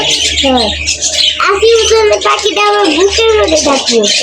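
A pet bird squawks repeatedly at close range in sharp, harsh calls, interleaved with people talking nearby.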